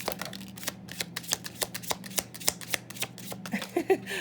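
Tarot cards are shuffled steadily at close range, with rapid crisp riffles and slaps repeating throughout and no talking.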